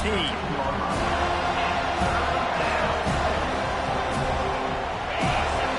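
Dense, loud crowd roar fills a football stadium during a big third-down moment, sustained throughout with swelling cheers and a commentator's voice over the noise.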